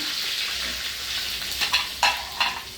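Grated ginger sautéing in hot oil with dried red chillies, curry leaves and asafoetida, a steady close sizzle broken by a few louder stirring scrapes near the end.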